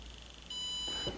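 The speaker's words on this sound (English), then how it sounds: "eventually we'll get one beep showing we've reached maximum power" A Pain Genie device gives one electronic beep on reaching maximum power, a steady high-pitched tone that starts partway through and holds, close and clear with no talking.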